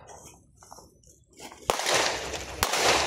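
Pistol shots at an outdoor shooting range during a basic pistol shooting challenge: two sharp, loud reports with a quieter stretch before them and a noisy wash of sound after each shot.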